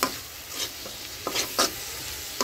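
Dried fish with pumpkin and turmeric sautés in a pan, a soft continuous sizzle punctuated by a few brief scraping stirs, close and fairly quiet.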